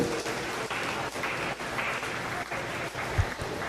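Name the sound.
audience applauding at goat show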